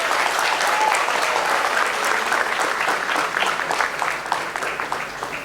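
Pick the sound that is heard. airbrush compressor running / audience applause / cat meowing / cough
audience applause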